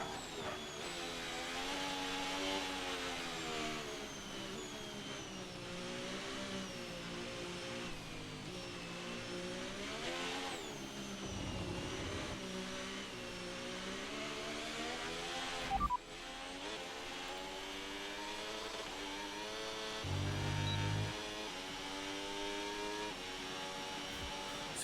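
Formula 1 car lapping in the F1 26 game at China, a high whining engine note rising and falling through gear changes and corners, steady and close across the whole lap with no speech.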